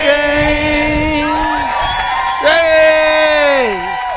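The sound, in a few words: crowd singing along and cheering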